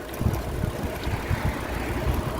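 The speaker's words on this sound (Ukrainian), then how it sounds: "Ну і от ми вже з вами виїхали з нашого села. Їдемо вздовж траси." A car travels along a highway leaving a village in the Netherlands, its engine running as a steady mid-range rumble with constant road noise throughout and no talking.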